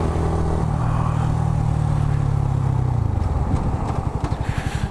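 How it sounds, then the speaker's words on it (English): A motorcycle engine heard while riding, a loud, close, steady drone that holds a low pitch and then drops into a slower, pulsing idle-like rumble with some wind noise near the end. "to record the bike sound, because it sounds so good."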